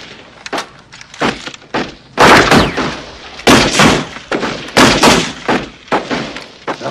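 M16 rifle gunfire in a movie scene, a string of loud sharp bursts and single shots at irregular intervals over about seven seconds, close and dominant with no talk.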